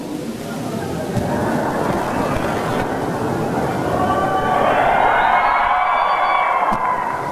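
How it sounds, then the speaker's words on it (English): A graduation audience at the University of Guam fills the air with dense crowd noise, steady and loud throughout, rising slightly toward the end, with cheering mixed into the broad roar. "I knew I'd get a better applause for saying that."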